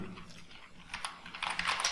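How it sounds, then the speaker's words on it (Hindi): Someone types a query on a computer keyboard for a SQL Server database, with a quick run of close, crisp key clicks that grows busier and louder toward the end, with no talk. "यहां पर मैं क्वेरी टाइप करता हूं"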